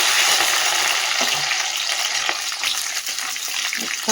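Cashews and raisins frying in hot oil with bay leaves and whole spices, giving a dense, steady crackling sizzle with light stirring taps throughout.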